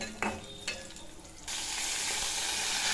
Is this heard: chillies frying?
yes